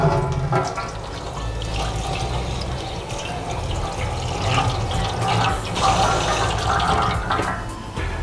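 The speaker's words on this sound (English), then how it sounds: "now we're going to demonstrate how to wash out a foam element air cleaner" Water runs and splashes steadily as a foam air cleaner element from a horizontal shaft overhead cam engine is washed out over a catch pan, a continuous rushing wash with no talk.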